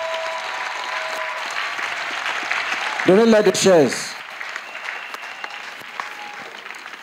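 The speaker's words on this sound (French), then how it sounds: "Let's clap." Congregation applause at a church service, a steady broadband wash of clapping running throughout, with a voice speaking and a brief sung or shouted phrase rising over it midway.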